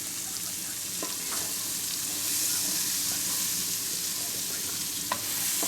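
Onions caramelizing over low heat in a pan for a Salisbury steak give a steady, soft sizzle with occasional faint clicks of stirring, close and even throughout.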